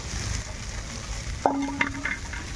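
Spices frying with pre-fried potatoes in a pan, a soft continuous sizzle broken by a sharp clatter of a spoon stirring midway and a lighter knock shortly after.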